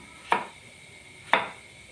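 Two sharp knife chops on a cutting board, about a second apart, crisp and close with quiet room tone between.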